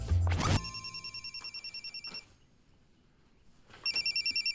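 A telephone rings with a rapid warbling electronic trill in two bursts separated by a short quiet gap, fairly close and clear, preceded by a brief thump.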